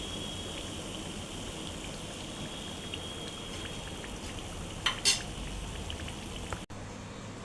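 Potato snacks fry quietly in hot oil, a soft continuous hiss and crackle with a couple of brief clinks near the end.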